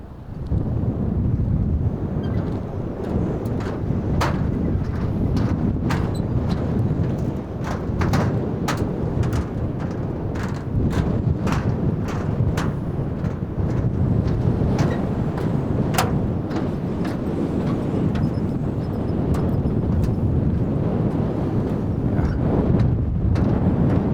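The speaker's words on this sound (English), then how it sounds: "Quite windy, wobbly." Strong, steady wind buffets a small boat on the Umngot river, roaring continuously into the microphone, with scattered sharp clicks and knocks over the rush.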